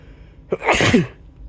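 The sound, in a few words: sneeze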